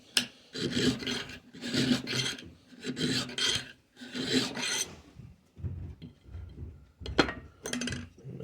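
Hand file rasping on a Hitachi table saw height adjustment part, worked in an awkward position: rhythmic back-and-forth strokes in close bursts with short pauses, then a few lighter scrapes and a metallic clink.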